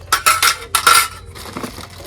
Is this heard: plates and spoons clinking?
yes